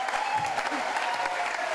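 An audience at a celebration of the Auchan Roncq hypermarket's 50th anniversary claps in sustained, dense applause close by, with no voices clearly heard.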